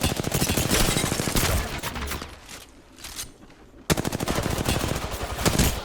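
Rapid automatic gunfire from an Apex Legends firefight, loud bursts of rattling shots with a short lull before another sustained volley.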